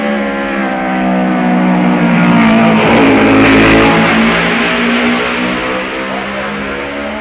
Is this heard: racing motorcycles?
yes